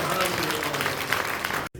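A crowd claps at a Korean church association's general assembly, dense and loud throughout, with speech mixed in and a sharp brief cutoff near the end.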